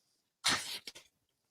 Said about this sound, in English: we can still hear you blowing your nose